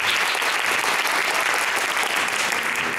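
Warm, steady applause fills the room as a studio audience at a Polish talk programme welcomes guest Tomasz Stawiszyński, an even, sustained burst of many hands clapping.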